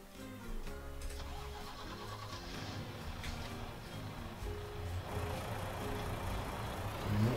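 A truck engine runs in Farming Simulator, a low steady rumble that starts up and holds at moderate level, nearby and with no talk.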